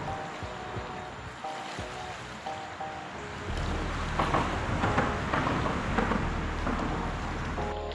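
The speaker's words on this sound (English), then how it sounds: "the current's a lot swifter right here" Swift creek current rushing over a shallow riverbed, a continuous broadband wash close to the microphone that swells louder partway through and keeps churning steadily to the end.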